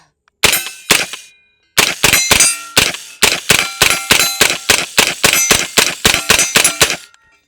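Bullets from a Smith & Wesson carbine ringing a steel target at a range, sharp metallic clangs fired in a rapid string of about twenty hits, each with a brief ringing tail, the carbine's spring vibrating faintly beneath.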